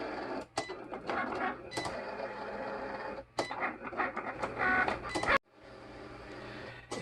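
A Cricut cutting machine cuts a T-shirt design with a close, steady mechanical whir of carriage and blade movement, broken by short pauses and shifts in pitch as the head changes direction.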